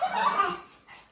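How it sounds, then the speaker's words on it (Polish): A dog gives a short whimpering yip and then a softer second sound, close and fairly loud, with no talk. "Zgonię się z psem."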